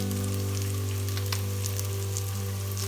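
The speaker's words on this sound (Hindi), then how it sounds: "देसी घी है और मेल्ट हो गया। अब इसमें हम डालेंगे प्याज।" Onions frying in melted desi ghee for a beef karahi, a steady, close, even sizzle with fine crackle throughout and a constant low hum underneath, no voices.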